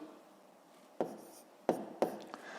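Pencil or pen writing out the fifth step of a fifth-grade math exercise on paper, heard as a few short, close scratchy strokes over a quiet background.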